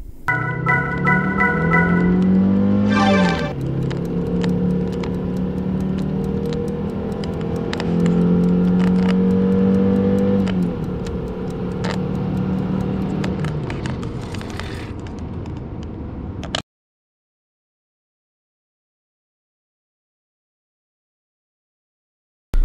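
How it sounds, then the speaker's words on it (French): A 1998 Volkswagen Passat 2.3 VR5 Tiptronic engine hums steadily from inside the cabin, its pitch rising and falling as it drives, then cutting to silence. "Nous voici donc au volant de la Passat VR5 Tiptronic de 1998, finition confort"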